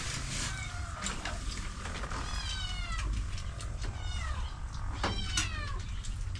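A cat meows repeatedly in a series of rising and falling calls, close and clear over a steady low engine-like hum, with no talking.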